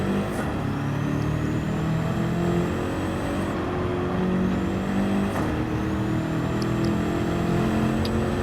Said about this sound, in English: So now we're going to start giving the car more power.